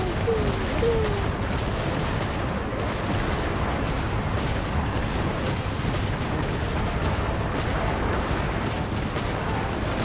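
Artillery cannon fire in the video game Genshin Impact forms a dense, unbroken barrage of booms and blasts that stays loud and even for ten seconds, with no talking.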